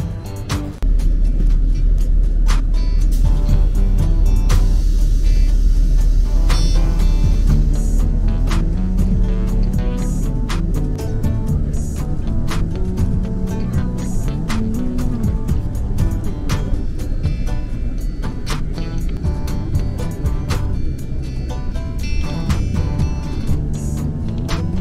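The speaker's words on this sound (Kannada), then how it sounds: "ಇಲ್ಲಿಂದ ಬಸ್ಸಲ್ಲಿ ಹೋಗ್ಬೇಕು. ಇಲ್ಲಿದೆ ನೋಡಿ ಬಸ್ಸು" A bus idling and running on an airport apron, with a steady loud low engine rumble throughout and a few brief clanks over it.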